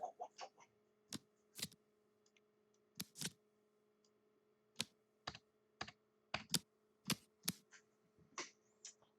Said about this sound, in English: Let's shuffle these up, see what gods we're going to have in this game.